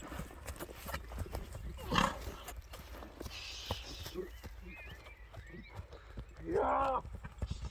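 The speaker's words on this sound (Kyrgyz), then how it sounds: "байкадыңыздарбы атты? Такшалган ат экен." A trained Kyrgyz horse used for ulak moves with clip-clopping hooves, mixed with bursts of whinnying and nearby voices talking over the scene.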